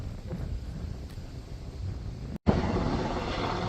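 Distant helicopter drone near a New England fire tower, with rumbling wind noise across the microphone, steady throughout, briefly cutting out before returning louder.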